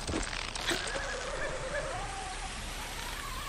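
A horse whinnying in Far Cry 6, a fairly close neigh with a rising, wavering cry over steady rain-like outdoor ambience.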